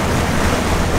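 Wind and waves on Lake St. Clair on a rainy, windy day, a steady loud wash of surf and gusting wind noise buffeting the microphone, no voices.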